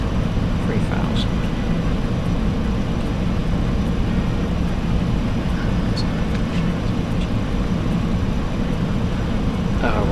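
Concorde engines climbing on reheat in Microsoft Flight Simulator, a loud, steady, broadband jet roar that continues unbroken throughout.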